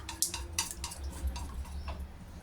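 Three beaten eggs whisked in a bowl, with quick repeated clinks and taps of utensil against the bowl over a low background hum, close and fairly soft.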